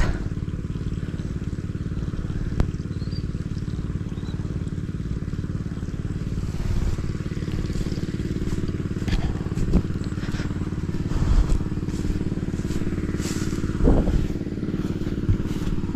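A motor idles steadily throughout with a low rumbling drone, joined by scattered clatter and crackles and a few louder bumps toward the end.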